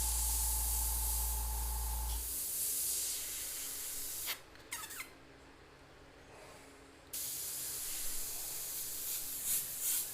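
An airbrush mists paint onto a board track racer and flag artwork, giving a steady close hiss for about two seconds, then a long quieter spell with faint clicks before the hiss resumes.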